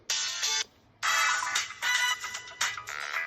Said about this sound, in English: What's the default tone here?